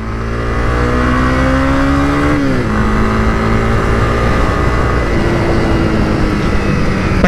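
A 2022 Honda CB300R motorcycle exhaust drones steadily while riding in second gear, its pitch dropping with each downshift, loud and close with no talking.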